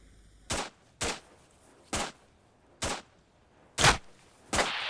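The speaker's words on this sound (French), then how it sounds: "Ça tire." Gunfire in the military video game Arma: six sharp, evenly spaced single shots crack out about once per second, fairly close and loud, with quiet background between them and no talking.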